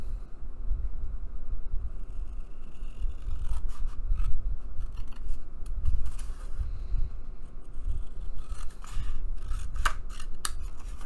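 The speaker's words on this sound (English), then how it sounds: "I'm going to go ahead and cut him out real quick." Scissors cut out a painted paper figure, snipping repeatedly in an irregular run of crisp, close blade closes and paper rustles, with no talking.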